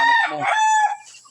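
A rooster crows once, loud and close, a single bright cock-a-doodle-doo that rises and then trails off.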